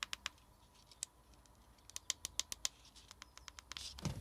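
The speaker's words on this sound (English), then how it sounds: "Tapping the cone feels like a nice low reliable thud. And the clicking of the buttons doesn't sound cheap or Chinese in any way." Tapping on the cone and clicking the buttons of a small JBL portable speaker, heard as a run of sharp, close taps and clicks in an irregular rhythm with no talking.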